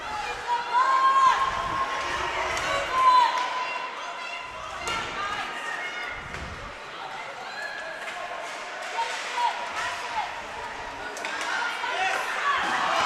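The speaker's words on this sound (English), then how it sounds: "a quick chance by the Western Selects, drawing a bit of a reaction from the crowd" A hockey crowd at a junior game reacts to a quick scoring chance, a swelling murmur of cheers and oohs with scattered thuds from the ice, heard faintly under an announcer's commentary.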